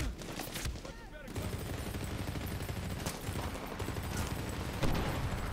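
Rapid bursts of gunfire crackle almost without pause in the Medal of Honor: Warfighter video game, dense and loud throughout after a brief quieter dip near the start.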